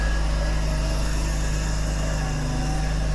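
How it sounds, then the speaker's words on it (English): A lawnmower engine runs close by, a steady loud mechanical drone with a constant low hum and buzzing overtones holding level throughout, with no voices. "But the darn lawnmower starting"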